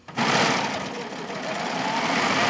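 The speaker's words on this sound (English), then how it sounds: "we're going to sew down" A serger sewing machine stitches placemat fabric, starting up after a brief pause and then running as a steady, loud, continuous whir close by.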